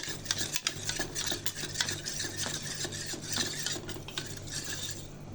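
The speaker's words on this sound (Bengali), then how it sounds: "তো ভালো করে গুলিয়ে নেব" Spoon stirring a milk mixture for fruit custard in a pot, a steady quiet scraping and swishing with light clinks, close and alone without talk.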